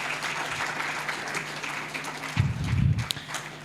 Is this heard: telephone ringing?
no